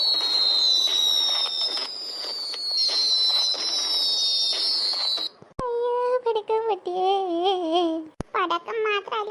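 Cartoon firecrackers: a long whistling tone sweeps down, then sharp cracks pop between excited animated voices chattering and squealing, all loud and close.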